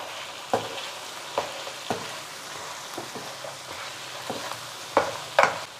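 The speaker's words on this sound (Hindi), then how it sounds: "अब हमने जो खड़े मसाले क्रश किए थे वो इसमें ऐड करके तकरीबन 2 से 3 मिनट के लिए अच्छे से इसकी भुनाई" Crushed whole spices fry in oil over ginger garlic paste for an aloo gosht curry, with a steady close sizzle and several sharp spoon clacks against the pot spaced through the frying.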